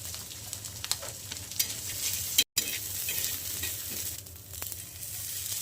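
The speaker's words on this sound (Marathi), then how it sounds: "असं तेलात भाजलं ना मस्त वास येतो बघायला. असा मसाला भाजून घेतला मी." Masala with fresh coconut roasting in oil for misal pav, a continuous crackling sizzle with occasional stirring scrapes, broken by one brief cut to silence midway.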